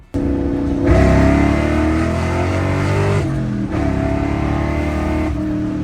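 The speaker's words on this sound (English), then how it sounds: "it is very scary seeing this car get on under throttle, as you'll see by the clips" A supercharged Ford SVT Cobra engine revs hard and accelerates, its roar rising in pitch, easing off, then pulling again.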